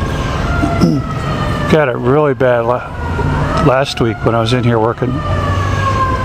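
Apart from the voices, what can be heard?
emergency vehicle siren in Brooklyn street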